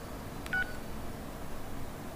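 Keypad button tones from an LG Venus phone: a single short beep stands out clearly over a steady low background hiss, with no talking.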